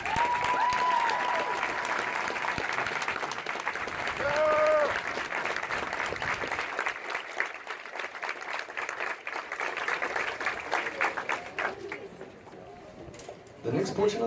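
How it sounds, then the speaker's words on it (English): Spectators at a Marine Corps recruit graduation at MCRD San Diego applaud the company staff, the broad clapping loud at first and then thinning and fading, with scattered whistles near the start. "please join me in a round of applause for the company staff of Company H"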